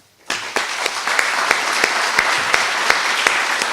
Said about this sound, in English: So I think they deserve a big applause